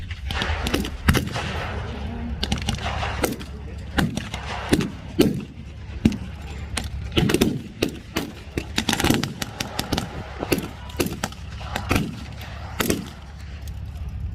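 Gunfire at a World War II battle reenactment in the UK, with rapid and scattered sharp shots, some in quick bursts and some single, booming at varying distances throughout.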